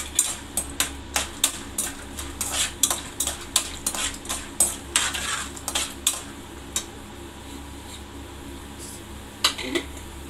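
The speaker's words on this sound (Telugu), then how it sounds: "పోపులు అయితే వేగిపోనియండి." Tempering spices in a pan while semiya upma is cooked at home, heard as a run of sharp metallic clinks and taps from a utensil against the pan over a faint low hum, the strikes irregular and thinning out toward the end.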